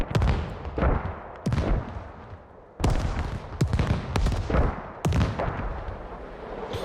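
Artillery barrage in the tactical shooter Squad: a string of loud, sharp impacts and blasts, some near and some farther off, landing in uneven bursts with rumbling decay between hits.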